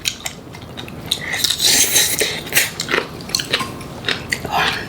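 Crunchy, freshly made spicy Korean kimchi chewed close to the mic, with repeated crisp bites and clinks of cutlery on dishes throughout.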